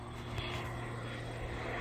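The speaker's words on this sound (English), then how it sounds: "Check it out! I found a spray plane." A crop-spraying plane passes over dairy cornfields, clearing an electric line by about five feet; its steady propeller-engine drone stays loud and continuous throughout, with a constant low hum and no voices.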